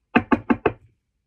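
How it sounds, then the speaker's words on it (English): Four evenly spaced knocks on a door sound in quick succession, close and clear, with nothing else around them. "He's going to sit there and knock."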